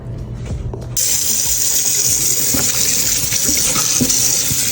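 Tap water gushes into a sink while chicken party wing drumettes are washed, starting abruptly after a moment of quiet and then running loud and steady, with faint handling clinks underneath and no talking.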